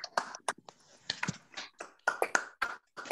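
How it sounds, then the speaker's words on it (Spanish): Remote participants in an online lecture on new technologies and fundamental rights clap through open microphones, producing scattered, uneven, thin claps and taps that overlap irregularly at moderate volume. "Les pido abrir los micrófonos para el aplauso final"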